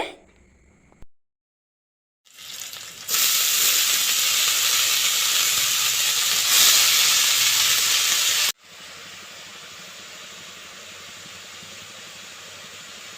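Onion and green chilli frying in oil make a loud, broad sizzling hiss that flares up after a short quiet gap, then drops abruptly to a softer steady sizzle.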